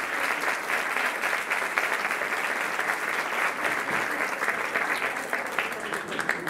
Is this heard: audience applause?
yes